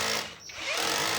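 An electric drill bores into a wooden board while a ceiling fan and light board are fitted, a loud close whine that dips briefly as the bit bites and then runs steady.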